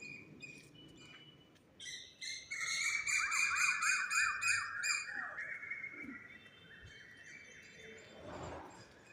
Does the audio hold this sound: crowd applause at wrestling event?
no